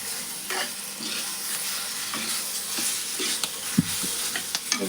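Capsicum frying with cumin in a pan, stirred and turned over: a continuous crackling sizzle broken by irregular scraping and clacking of the spoon against the pan, close up and with no talk.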